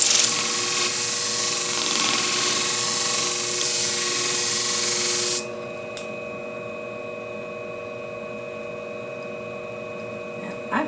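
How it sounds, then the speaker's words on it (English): A grinder sharpens a shear blade clamped at a 40-degree angle, a bright, loud grinding hiss for about five seconds that then cuts to a quieter, steady motor hum with a faint click, no talking. "I've got to burr all the way down."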